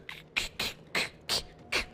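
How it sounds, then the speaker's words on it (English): Console controller thumbsticks bang against the controller housing during intense play, giving six sharp, clicky plastic knocks in an uneven rhythm, close and fairly quiet with no talk. "That's the sticks banging against."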